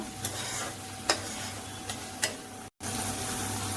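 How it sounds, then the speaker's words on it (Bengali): Spices with slit green chillies sizzle softly in a pan while being stirred, with a few clicks of the spoon against the metal and a brief cutout near the end, no speech. "আমি এইভাবে নাড়াচাড়া করে ভালো করে কষিয়ে নিচ্ছি"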